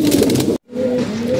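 Paired pigeons of an old, near-extinct breed coo in low, steady murmuring tones, broken by a short silent gap halfway through.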